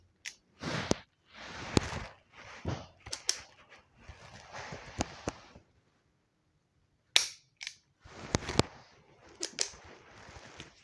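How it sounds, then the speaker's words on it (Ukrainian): Sharp pistol shots crack up close, a handful of loud bangs spaced irregularly, with noisy bursts of handling between them. "Підтримуємо пістолет і робимо постріл."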